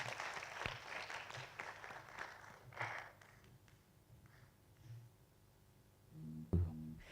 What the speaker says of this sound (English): Another round of applause for all of our debaters.